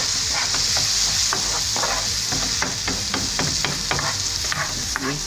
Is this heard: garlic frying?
yes